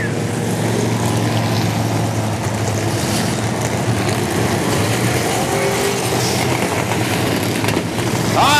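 Late model race cars roar around the Macon Speedway oval in a continuous, loud engine drone that swells near the end, with no voices over it.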